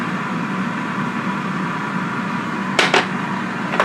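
A GoWISE USA air fryer runs steadily while preheating, giving a constant fan whir with a low hum underneath. Near the end, a few brief, sharp clicks or knocks stand out.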